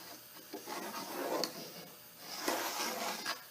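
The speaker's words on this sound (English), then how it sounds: "I'm just going to take a pair of scribes and scribe a curve" Steel scribes drag across a wooden panel for an antique oak chair seat, marking a curve with two quiet, slow scratching strokes and a faint rasp close up.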